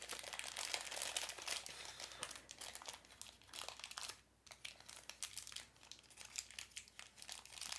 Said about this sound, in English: Apparently I chose a very tight fit plastic bag for this guy.